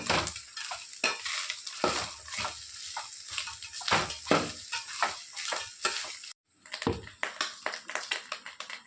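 Grated coconut roasting in a pan while a spoon stirs it, repeated scraping strokes in an uneven rhythm with a light sizzle, close and moderately loud, a short silent break near the end, no talk.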